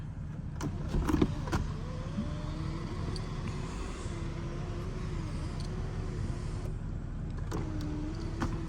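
Electric sunroof motor on a 2002 Mercedes-Benz CL500 whirring steadily for several seconds, with a few clicks at the start and end, over a low background hum.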